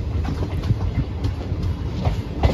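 Mathura Barmer Superfast Express (12490) train rolling along rails in Mathura district, a steady loud rumble with repeated rhythmic wheel clatter over rail joints throughout, no voices.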